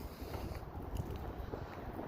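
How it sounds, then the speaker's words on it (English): Wind buffets the microphone in a steady, low rushing roar with gusty fluctuations throughout, no voices present. "It's windy."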